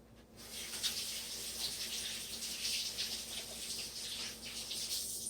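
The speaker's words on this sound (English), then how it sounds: "Quick wash of hands." Hands washed under a running kitchen faucet during frittata cooking, a steady broadband water rush lasting throughout, close and even, with no talk.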